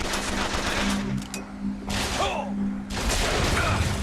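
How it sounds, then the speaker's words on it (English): Sniper rifle fire in the video game Bioshock Infinite, several loud sharp cracks in quick succession with echoing tails, someone talking over the shots in a game setting. "The good thing with the sniper rifle is if you score a headshot, their heads pop."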